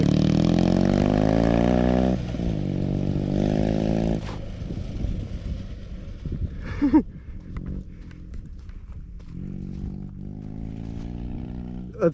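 A heavy Dnepr MT11 motorcycle engine revs up in long rising pulls, loud and close, dropping to a rough idle between revs, with people talking and laughing over it.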